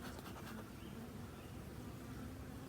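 Agitated honeybees buzzing around an opened top bar hive near the brood section, a faint but continuous dense hum with no voices.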